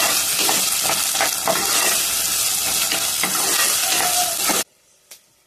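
Onions fry on high heat with a loud, dense sizzle and the rough scrape of stirring, which cuts off abruptly near the end, leaving near silence and one faint knock.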